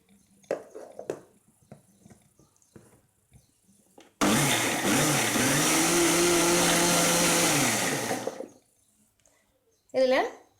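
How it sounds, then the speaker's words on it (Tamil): Kitchen mixer blending amla juice with curd, a loud steady whirring roar lasting about four seconds that winds down, with scattered handling noises before it and a brief clatter at the end. "இப்போ இது கூட நம்ம தயிரையும் சேர்த்து அடிச்சிடலாம்"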